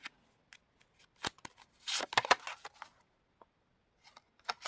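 Tarot cards being shuffled by hand, a few quick riffling bursts and scattered soft taps, close and crisp in a quiet room.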